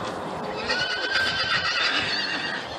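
Horses neigh and whinny in a stable or paddock as they wait to be let out one by one, the calls moderately loud and continuous with hoof shuffling underneath, no talking.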